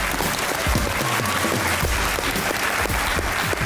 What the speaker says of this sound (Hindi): तालियां बजाऊंगा मैं आपके लिए.